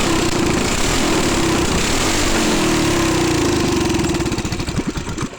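A 224cc small engine, freshly fitted with a 98 main jet and a refitted clutch, roars loud and close at a steady high rev, then stutters and winds down in uneven pulses near the end.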